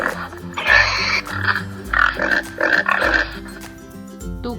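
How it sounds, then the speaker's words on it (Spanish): A pig oinking in a short series of grunts and snorts, loud and close over a steady low musical background, with no talking. "Cerdo."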